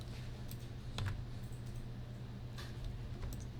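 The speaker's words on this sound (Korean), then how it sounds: "움직일 때 Alt하고 Shift까지 같이 눌러주세요." Computer keyboard keys, Alt and Shift, pressed during illustration software work: a few faint, sparse clicks over a steady low hum.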